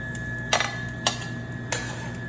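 Cooked pasta for cacio e pepe clatters into a metal pan, three separate clinks and scrapes against a steady kitchen hum, close and fairly quiet.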